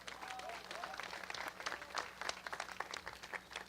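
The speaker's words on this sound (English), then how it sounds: "Y'all clap it up for him." An outdoor audience at a statue unveiling breaks into steady applause, many hands clapping densely and fairly distant, with faint voices mixed in.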